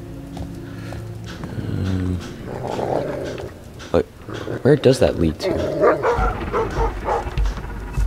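Dog in the Thief stealth video game growling and barking, with a series of loud, rhythmic barks and growls in the second half over game ambience, while someone talks early on.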